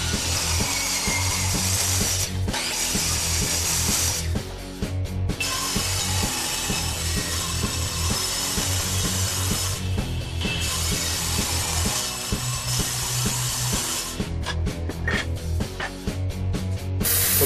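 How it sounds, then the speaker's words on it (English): Power tools plane purpleheart and other hardwood boards down into thin strips for a wooden spatula, a loud, continuous mechanical whirring and rattling with brief pauses and shifts in pitch throughout. "I'm planing the boards down to 1/16 inch strips"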